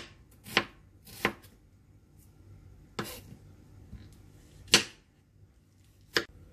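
A knife thinly slicing onion and chili on a board, making five or six sharp, separate chops with quiet pauses between them.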